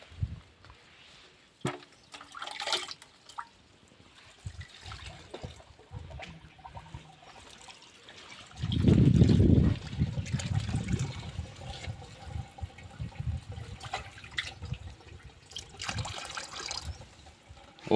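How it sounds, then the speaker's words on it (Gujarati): Water is poured onto about 200 grams of jaggery to dissolve it, giving a loud, close splashing pour in the middle that settles into lighter trickling, with scattered handling noises before and after. "અને પાણી નાખશું એટલે અંદર વયો જાય હમણાં"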